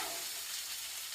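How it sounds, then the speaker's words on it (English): Chicken and carrots sizzle in hot oil in a pan for a stir fry, a loud, dense, steady hiss of frying close up with no talk. "You should hear a sizzle."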